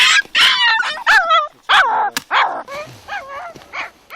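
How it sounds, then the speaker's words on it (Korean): A frightened feral puppy cries loudly and repeatedly, shrill wavering yelps and whimpers in quick bursts, close and intense, with no talking. "겁에 질린 새끼는 세상에 태어나 가장 세차게 울부짖습니다."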